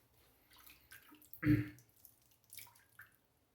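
A few soft splashes and drips of water fall onto handmade glycerin shaving soap, one louder pour in the middle, with quiet gaps between.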